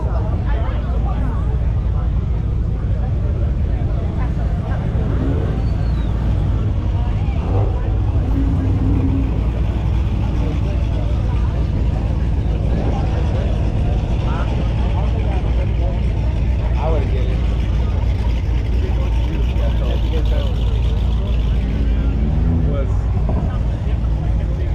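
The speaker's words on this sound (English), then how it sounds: "Let's go see if we can view some cars driving by." Cars passing at a Cars and Coffee show in South OC, a constant loud engine and road rumble with occasional swells as vehicles drive by, people talking throughout.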